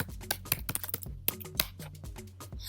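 Quick, uneven bursts of keystrokes on a computer keyboard, a dozen or so crisp close taps with short pauses between, fairly quiet overall.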